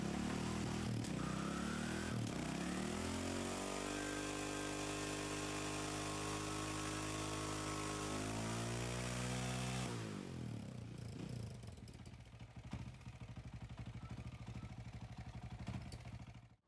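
A motorcycle doing a burnout revs hard and rises in pitch, roaring loudly for several seconds before dropping into a rough, clattering idle.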